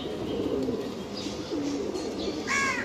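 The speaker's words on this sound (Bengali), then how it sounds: "এখানে যে 4টা কবুতর লুক দেখেন কত সুন্দর" Pigeons coo in a loft of domestic pigeons kept by a fancier, soft throaty calls repeating through the clip at close range, with a few faint chirps and no talking.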